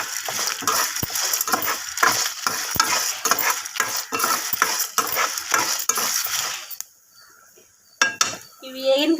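Coriander seeds and spices fried in a pan, stirred with a rapid, rhythmic scraping and rattling of a spoon against the metal, close and fairly loud, then a short pause before a few more scrapes.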